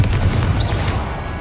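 A Confringo fire spell from the Hogwarts Legacy video game bursts with a deep, booming explosion that rolls on over steady low rumble, alongside a brief whooshing sweep.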